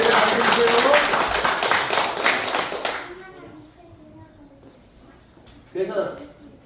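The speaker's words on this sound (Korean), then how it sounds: "우리 힘내라고 박수 한번 쳐주겠습니다" A church congregation claps hands together in a dense, lively burst for about three seconds, then it fades into quiet room tone with a brief voice near the end.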